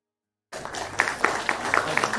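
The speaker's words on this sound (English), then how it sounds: "Can we give them a big round of applause?" Audience applause at an MBBS orientation ceremony, a steady broadband wash of many hands clapping that starts abruptly after a short silence and holds at moderate loudness throughout.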